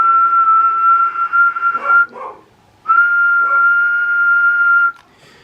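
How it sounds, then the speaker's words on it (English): A steady whistled tone keyed into an Anytone AT-5555 10 metre radio on upper sideband, held for about two seconds, broken briefly, then held again for two more seconds before cutting off. "Let's give a little whistle."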